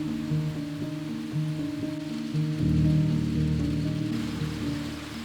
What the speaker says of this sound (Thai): แต่อุปสรรคของฝนก็เทลงมาอีกครั้ง